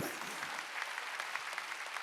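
A church congregation applauding during a Sunday worship service, a brief burst of dense, moderately loud clapping.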